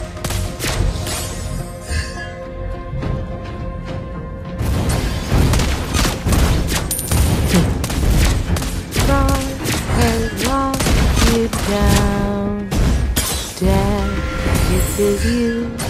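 Rapid gunfire from Lesley in the Mobile Legends mobile game, repeated sharp shots in quick bursts over game music and effects, close and loud throughout.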